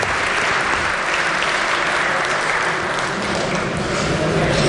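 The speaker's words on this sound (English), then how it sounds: "round of applause." Steady, dense applause from West Virginia House legislators welcoming back a former delegate, a broad even wash of many hands clapping in the chamber that holds at constant loudness throughout.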